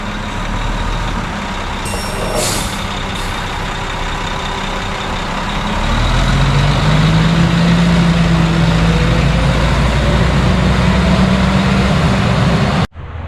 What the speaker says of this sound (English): the first truck is on the ground and he's out of here